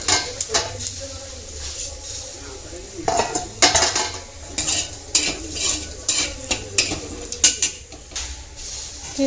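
Cumin seeds tempering in white oil in a pan, a soft sizzle beneath repeated sharp clinks and scrapes of a spoon stirring against metal cookware.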